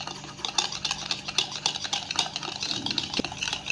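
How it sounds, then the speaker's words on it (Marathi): A spoon stirs mirchi bhaji batter after hot oil is poured in, giving quick rhythmic scraping and clinking against the bowl, close and steady throughout. "यावरती कडकडीत गरम केलेलं तेल आपण टाकून घ्यायचं आहे व्यवस्थित बॅटर आपल्याला मिक्स करून घ्यायचं आहे"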